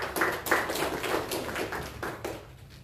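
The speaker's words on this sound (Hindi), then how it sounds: "लेकिन मैं आपके लिए तालियां बजाता हूं।" Scattered hand claps at the inauguration of a press workshop on new criminal laws, a handful of distinct, fairly close claps in an uneven rhythm, thinning out toward the end rather than a full crowd ovation.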